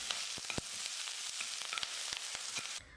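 Chopped onion and curry leaves sautéing in a pan, a soft continuous sizzle with scattered crackles and spatula taps, fairly faint, ending abruptly.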